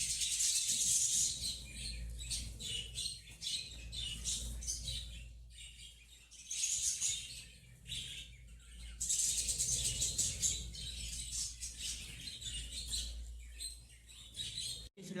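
Pet birds chirp and tweet nonstop at morning feeding time, with quick bright calls in dense bursts that swell and ease off over a low background hum. Nobody talks.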